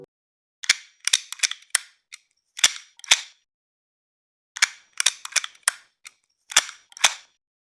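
Retro PSX-style game gunshot effects run through a Crush bit crusher: clusters of crisp, gritty, snappy shots fired in quick bursts, separated by short silences, with no voices.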